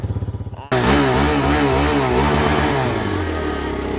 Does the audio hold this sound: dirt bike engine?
yes